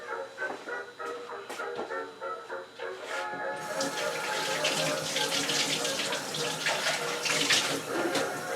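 Tap water runs while an old wooden hand-crank coffee grinder is washed out. Faint knocks and handling come first, then a steady splashing stream takes over and holds until the end.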